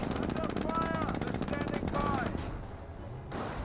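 Rapid machine-gun and rifle fire from Panzer Grenadiers in Company of Heroes, sustained rattling bursts close by, with someone talking over the shooting.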